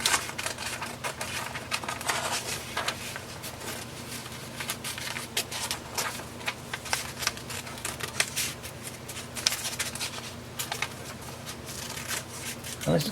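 A scroll saw fitted with a number 5 reverse-tooth blade cuts out a small Sherlock bust pattern, giving a quiet, steady stream of rapid chattering ticks over a low motor hum.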